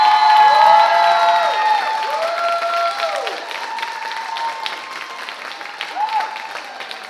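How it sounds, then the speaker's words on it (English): A live audience claps and cheers loudly for a performer named Kathleen Richardson, a steady wash of applause with a few whoops that gradually eases off. "let's give a nice round of applause to Kathleen Richardson"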